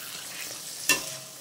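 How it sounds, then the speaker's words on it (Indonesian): Tofu frying in a pan, a low, quiet sizzle with a single brief sharp crackle or stirring scrape in the middle, no talking. "pertama-tama kita goreng dulu tahunya"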